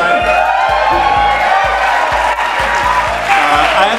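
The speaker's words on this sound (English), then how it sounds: "Such a noisy crowd at this time of night" Noisy festival crowd at a late-night midnight-madness film screening, a loud sustained wash of cheering, whooping and applause with steady low thumps underneath.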